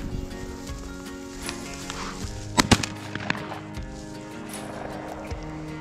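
Shotgun fire during a pheasant hunt in Maryland: two sharp, close reports in quick succession stand out over outdoor ambience, followed by a few fainter knocks.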